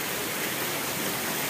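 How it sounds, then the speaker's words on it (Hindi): Water rushes steadily from somewhere behind, a broad continuous hiss like a stream or small fall, loud and even throughout the short moment. "पीछे से कहाँ से आ रहा है पानी?"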